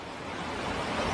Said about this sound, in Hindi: ये शहर में दाखिल हुआ पानी।